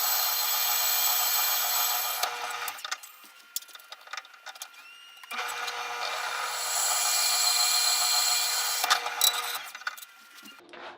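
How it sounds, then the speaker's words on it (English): A drill press whines steadily as it bores handle holes into a steel knife blank, with two long drilling passes separated by quieter clicks and handling noises. "I'm going to go over to the drill press and start drilling."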